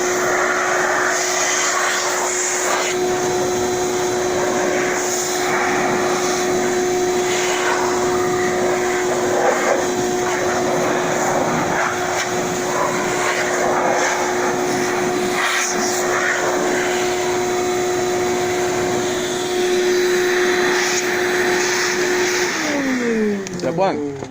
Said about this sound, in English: It's my vacuum. What I'm going to do is use it to blow out all the loose dirt.